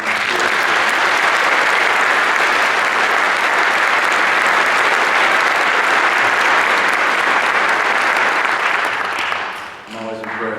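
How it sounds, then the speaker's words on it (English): An audience at a school Gold & Silver Star ceremony applauds the band. The applause is loud and sustained for about ten seconds, then it thins out as a voice begins at the end. "one more round of applause for our band."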